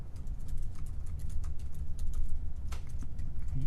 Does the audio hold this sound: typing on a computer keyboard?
yes